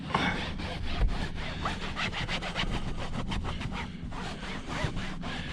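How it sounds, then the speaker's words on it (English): A microfiber cloth rubs briskly over a freshly cleaned food stain to dry it, a steady, fairly loud scrubbing swish of rapid back-and-forth strokes, with no voices over it. "I'm going to take a microfiber, help dry this out real quick"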